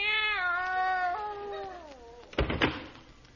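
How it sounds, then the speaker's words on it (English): A cat meow sound effect from a 1950 radio comedy: a long, tonal, wavering yowl that bends downward, followed by a short knock or thump like a drawer being moved. "There's nothing in there but a cat."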